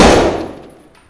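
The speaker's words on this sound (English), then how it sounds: "Ricochet sound." A single sharp metallic ping of a bullet ricochet in ArmA 3 with a sound mod, with a bright, ringing tail that fades out over about a second, no voices.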